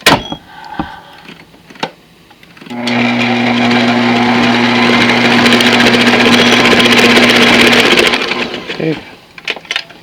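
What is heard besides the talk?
stand mixer with scraper paddle attachment mixing cake batter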